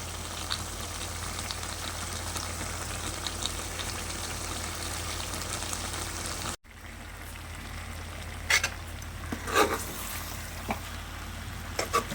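Chicken frying in biryani masala, a steady close sizzle across the whole clip, broken by a brief drop mid-way and followed by a few sharp scraping stirs of the pan.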